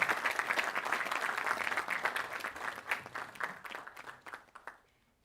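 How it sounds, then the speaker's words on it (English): An audience applauds to welcome a speaker to the stage at an industry panel event. Dense clapping builds early and then thins to scattered claps before stopping. "Let's give a huge round of applause"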